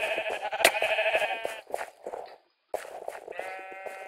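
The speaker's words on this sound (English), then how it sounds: "We have three sheep." Blocky sheep bleat repeatedly in the Minecraft Sheep Quest minigame, several drawn-out nasal calls overlapping, with a brief silent gap before another bleat resumes.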